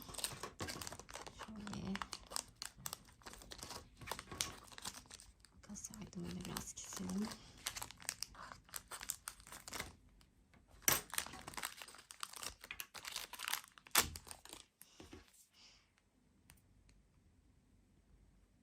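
Plastic toy packets from Danone Süprix are torn open and crinkled up close, sharp rustling and crackling bursts coming in irregular flurries with quiet gaps, soft overall, with a voice whispering or talking at times.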